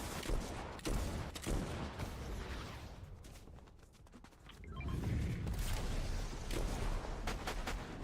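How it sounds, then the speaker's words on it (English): Rapid bursts of gunfire from a fast-shooting custom gun in the video game Fortnite, crackling in quick clusters near the start and again toward the end, with no talking. "this gun shoots so fast, it's not even funny"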